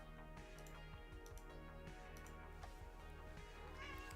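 A house cat meows close by, with several short calls scattered over a steady background hum and faint clicking.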